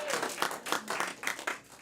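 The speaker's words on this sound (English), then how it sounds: "One more round of applause for Jimmy, everybody!" Audience applause at an improv comedy show, a steady patter of many hands clapping at moderate level for about two seconds, with no voices over it.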